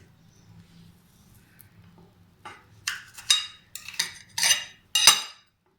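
Knife slicing through a freshly baked plain cake in a home kitchen, giving a run of close, crisp crumbly crunches and scrapes that grow louder and sharper toward the end, with a low hum underneath.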